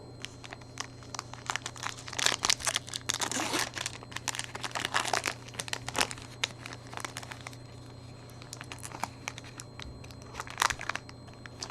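A foil Topps 2019 Update Series baseball card pack wrapper is torn open up close, giving several bursts of crinkling and ripping over a steady low hum, with quieter rustling in between.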